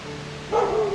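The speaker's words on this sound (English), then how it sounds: "Now my neighbor's dog Jeepers is out barking" A neighbor's dog outdoors lets out one short bark midway through, standing out over a steady low hum.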